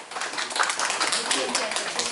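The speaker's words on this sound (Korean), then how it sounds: "박수 한번 보내주시죠." Audience members at a debate meeting on a school meal radiation ordinance give a short round of applause, a dense, moderately loud patter of clapping lasting only a couple of seconds.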